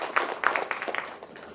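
A short round of audience clapping at an afternoon real estate investment fund event: uneven, moderately loud claps for about a second, trailing off quickly.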